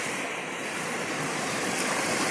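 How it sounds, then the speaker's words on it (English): Waves breaking on the Lake Michigan shore, a continuous broadband wash of surf with some wind noise, fairly loud and steady with no voices. "Waves are getting high, so I don't know how long we're gonna be able to hang out down here."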